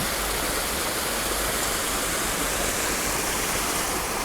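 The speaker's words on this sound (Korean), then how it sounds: "물소리가 굉장히 큽니다." An artificial waterfall in a Suwon park pours with a loud, constant roaring rush of water, a dense steady wash filling the whole stretch with no pauses or voices.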